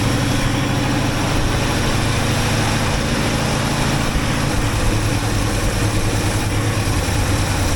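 A 1964 International Harvester Travelall C1100 engine idles steadily, its low, even rumble running unbroken and close with a faint vibrating texture, and no one talks over it.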